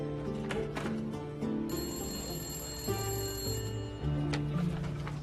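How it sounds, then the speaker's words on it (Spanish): A telephone bell rings with a bright, sustained electronic tone over low background music, fairly close and steady. "El teléfono sonó"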